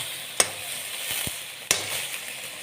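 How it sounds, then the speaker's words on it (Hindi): Chicken roast frying in a pan over a high flame as its water cooks off, giving a steady soft sizzle with two sharp pops standing out. "अब मैंने इसको हाई फ्लेम पे कर दिया है ताकि ये अच्छे तरीके से पानी इसका ड्राई हो जाए"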